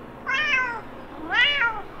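A house cat meowing twice indoors, two clear, drawn-out, rising-and-falling meows close to the listener with a short gap between them and no talk.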